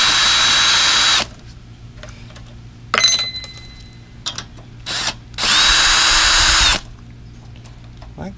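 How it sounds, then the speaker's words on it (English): A cordless power drill fitted with a 3/8 inch socket buzzes in two loud bursts, first steady then ramping up and down, as it removes bolts from a Briggs and Stratton 498170 carburetor, with clinks and handling noises between. "I'm just gonna put this on my drill and buzz these off."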